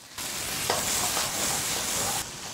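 Peas, radish and potatoes stir-fried in a wok with pork belly, ginger, scallion and garlic, a steady loud sizzle with scraping stir strokes throughout, alone without talk.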